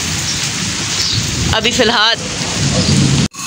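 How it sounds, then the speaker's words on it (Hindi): Heavy morning rain pours steadily outside a village, with a rumble of thunder near the middle; a voice speaks briefly over the downpour. "गाइस बारिश बहुत ही तेज़ हो चुकी है"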